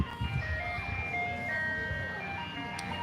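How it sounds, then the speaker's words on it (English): An ice cream truck plays its tinkling melodic jingle continuously, moderately loud, over a low engine rumble and background noise. "Ice cream trucks never come, guys."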